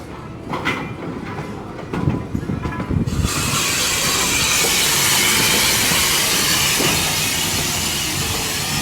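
A train at the Illinois Railway Museum during a Day Out With Thomas event with the Percy engine: a low rumble gives way to a loud, steady, close hiss of released steam that lasts for several seconds, with no talking.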